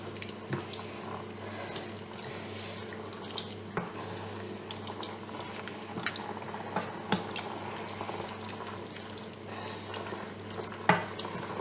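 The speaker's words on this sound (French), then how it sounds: "On remue." Bolognese sauce with chicken broth and red wine bubbles and simmers while being stirred, a steady liquid burble with soft scrapes and small splashes, close and fairly quiet, with no talking.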